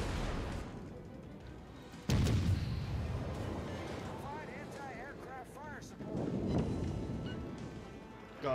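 Heavy naval gunfire in the World of Warships video game: a loud booming salvo hits sharply, then rumbles and rolls on, and a second surge of blasts follows, with a voice talking over the battle.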